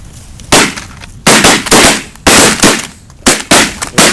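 Shotgun blasts fired at snow geese during a spring hunt, about seven loud, sharp reports in quick irregular succession, each with a brief rolling echo over an open field.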